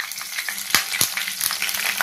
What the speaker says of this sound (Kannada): ಈ ಬದನೆಕಾಯಿ ಎಲ್ಲ ಸ್ವಲ್ಪ ಫ್ರೈ ಆಗಬೇಕು.